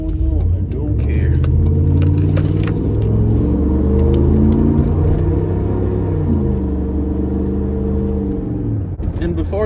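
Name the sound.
loud engine of a 3rd gen Ram truck driving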